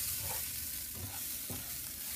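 Food sizzling steadily in a hot pan, a constant bright hiss with a few soft stirring scrapes, close and alone.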